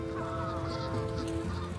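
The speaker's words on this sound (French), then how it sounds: "Ce canard migrateur revêt pour elle un caractère presque sacré." Migratory eider ducks calling outdoors in Norway, a dense chorus of overlapping honking, goose-like calls running steadily throughout, fairly loud and close.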